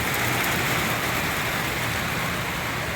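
Heavy typhoon rain pours down steadily as floodwater rises in a street, a dense unbroken hiss and roar with no gaps, loud and close throughout, and no voices.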